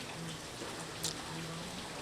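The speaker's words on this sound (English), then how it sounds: "Another rain and another wind coming over." Steady rain and wind during a typhoon, a continuous wash of rainfall on surfaces at moderate, even level with no voices.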